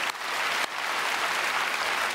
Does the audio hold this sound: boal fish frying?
no